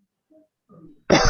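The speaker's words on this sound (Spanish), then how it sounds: "Tosiendo, muy bien." After a near-silent stretch with a few faint soft noises, a single short, harsh cough or throat clearing bursts out at the end.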